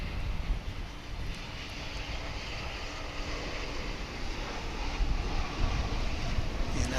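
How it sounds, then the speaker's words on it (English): Korean Air airliner inbound from Seoul arriving at DFW International Airport, its broad jet engine roar steady and loud across the whole stretch, rising slightly toward the end with wind noise and no talk. "We're going to swing over here to catch Korean Air flight coming in from Seoul."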